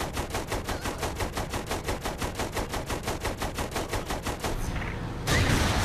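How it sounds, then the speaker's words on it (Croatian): Rapid machine-gun fire from a tank in Saints Row: The Third, a fast, even stream of loud bursts lasting several seconds, then a short pause and a heavier blast. "Može pucati i iz većeg i iz manjeg topa."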